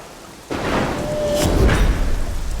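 Heavy rain begins abruptly and keeps pouring as a loud, dense, steady roar, with a low rumble building under it in a film scene.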